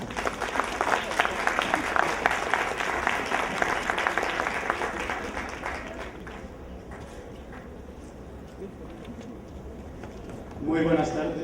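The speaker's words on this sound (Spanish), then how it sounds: "Recibamos con un cálido aplauso al doctor Restrepo." An audience applauds to welcome Dr. Restrepo at a Latin American business management conference, the clapping strong at first, then thinning out and fading into quieter room noise.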